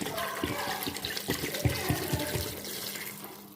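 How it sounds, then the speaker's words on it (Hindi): Water from a jug pours steadily into a pot of goat trotter paya with ground coriander, gurgling splashes, close and fairly quiet, tapering off toward the end. "अब इसमें हम 1 जग पानी का डाल लेंगे।"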